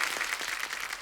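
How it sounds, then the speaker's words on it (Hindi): Studio audience clapping to welcome a film producer and a choreographer at an Indian entertainment event, a dense, steady burst of applause throughout, fairly close and moderately loud, with no speech over it. "एक बार जोरदार तालियां हो जाए"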